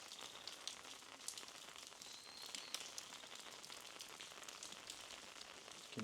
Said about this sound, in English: And boy, is it raining hard.